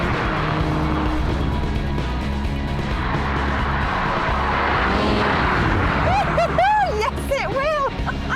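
A Volkswagen Golf R hot hatch driving hard with a loud, steady engine roar that surges toward the end as it launches over a jump, with background chatter and babble mixed in.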